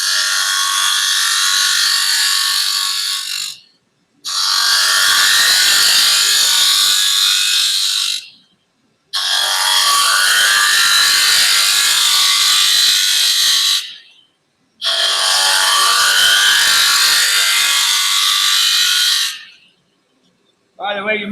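A 3/8 inch spindle gouge hollows out a wooden box, giving four loud, sustained bursts of harsh cutting hiss separated by short pauses, with no talking.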